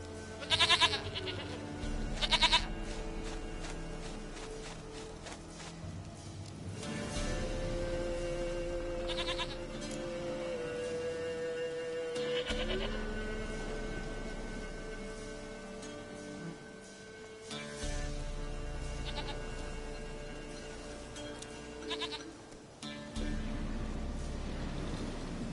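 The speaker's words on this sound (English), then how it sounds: "Goat of mine, dearest, sweetest goat." Goats bleat repeatedly in the Witcher 3 video game, several separate calls rising over a steady game soundscape with music, some loud and close, spread across the scene.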